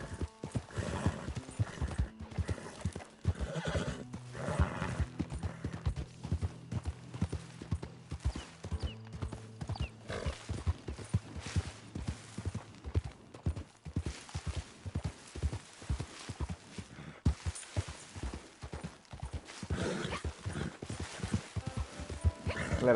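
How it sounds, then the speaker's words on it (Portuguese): Horse hooves clip-clop in a steady walking rhythm in the video game Red Dead Redemption 2, with occasional whinnies and neighs, close and fairly loud, over light game ambience. "O cavalo aqui é todo terreno, bicho."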